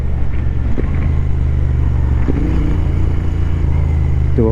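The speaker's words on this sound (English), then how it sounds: "do a really bad rev match" Subaru engine during a rev-match downshift: a steady loud rumble with short revving blips, heard close from inside the car, with no talking.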